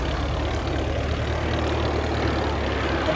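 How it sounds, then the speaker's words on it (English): An SE-5A, a First World War biplane, flies overhead with a steady, loud, low engine drone and propeller rumble, continuous and unbroken with no voices. "The third aircraft that's joined it is effectively the Spitfire of the First World War"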